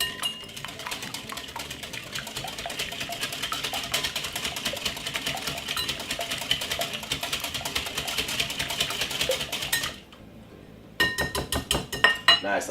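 A whisk beating Baileys French toast egg mixture in a bowl, a fast steady metallic clatter that runs for about ten seconds, pauses briefly and resumes.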